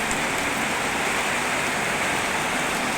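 Steady, heavy rain pours down without a break, a dense close hiss of water hitting surfaces.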